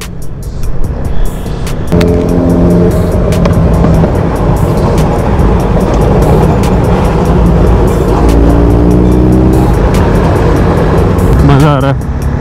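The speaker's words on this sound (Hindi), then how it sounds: "एक्रोपॉविक का साउंड." A Kawasaki Z900 inline-four motorcycle with an Akrapovic exhaust is ridden on the road. Its loud, close engine drone rises and falls through revs and gear changes, with a voice over it at times.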